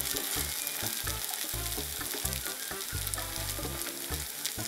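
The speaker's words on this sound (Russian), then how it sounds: "И обжариваю до готовности." Zucchini slices frying in a pan, a loud continuous hissing sizzle with low bubbling pops underneath, steady throughout with no speech.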